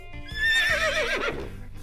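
A cartoon horse gives a single long, loud whinny that rises, wavers and trails off, with no talking over it.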